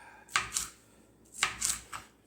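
Knife dicing vegetables on a cutting board, a few sharp close chops in two small clusters, fairly quiet with no talk.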